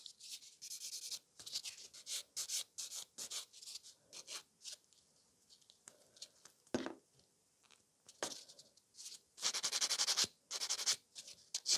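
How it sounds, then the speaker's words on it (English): Glitter gel nails are buffed with a nail buffer, producing close, soft scratchy rubbing strokes in quick bursts with short pauses between, ending in a longer run of steady strokes. "take a buffer and buff it. So the glitter becomes matte"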